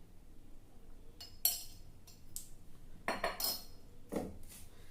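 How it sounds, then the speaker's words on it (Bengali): Wheat flour being worked with homemade ghee in a bowl, a few sparse clinks and scrapes of a spoon against the dish, close but quiet with pauses between strokes. "এবার ভালো করে এই আটাটাকে মেখে নিতে হবে"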